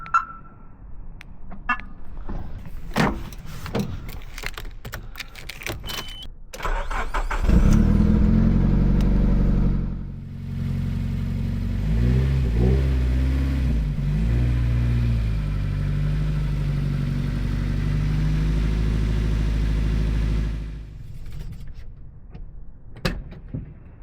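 A Nissan Pulsar GTi-R that has sat unused for a while, first clicking and clunking, then cranking and firing into a loud steady idle with a few blips of revving before it cuts off, close to the microphone.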